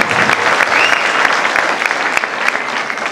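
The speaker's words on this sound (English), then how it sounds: "We want to take this opportunity to give a round of applause as we come." An audience applauds at a university graduation ceremony in Kenya, dense, sustained clapping, loud and close, with a few scattered sharper claps standing out and faint voices mixed into the crowd.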